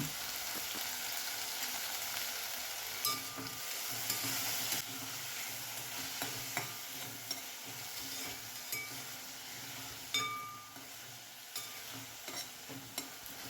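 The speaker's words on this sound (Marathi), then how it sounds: "कांद्याची पात चांगली परतून घ्यायची" Chopped spring onion greens sautéing in a pan for Maharashtrian vangyache bharit, with a steady sizzle under repeated clinks and scrapes of a spoon stirring against the metal, close and continuous with no talk.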